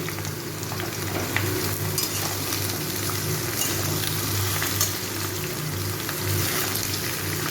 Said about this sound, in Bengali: এই সবজিগুলো সব ভালো করে একটু ভেজে নেব।